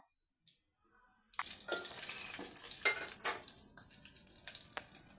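After a brief quiet start, cumin and spices hit hot oil for tempering and suddenly sizzle and crackle loudly, a sustained hiss with sharp pops and some stirring.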